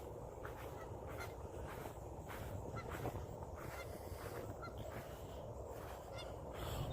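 Faint geese honk repeatedly in the distance over a steady background hiss, calls scattered throughout.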